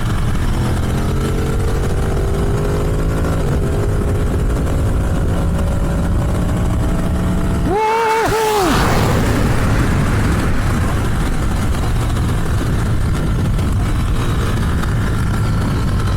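A Ducati Streetfighter 848 motorcycle engine drones steadily with rising pitch, then gives a sharp, brief rev blip midway before settling back to a loud, constant roar.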